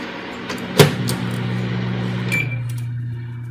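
A running microwave oven hums steadily while baking an eggless chikoo sapota cake, a low droning tone with a sharp clink near the start and a slight pitch shift toward the end.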